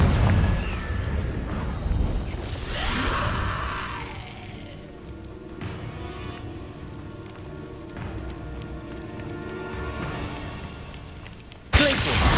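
Hogwarts Legacy Confringo blasting curse, a heavy booming explosion with crackling debris that decays into a long rumbling tail, followed later by a sharp burst at the end.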